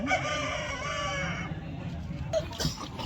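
A fighting rooster crows loudly with a long harmonic call over steady background noise at a rooster market in Vijayawada, then fades into quieter ambient sound with a brief chirp.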